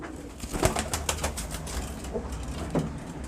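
A pigeon with old, worn feathers coos softly in a few low, brief murmurs over steady background noise, with a faint flutter of wings.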